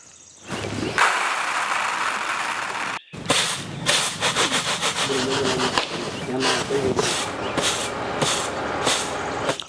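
Raw rice is winnowed in a sieve tray for Pongal, giving close, rhythmic swishing and rubbing strokes that repeat steadily, with one short pause before the quick tossing resumes.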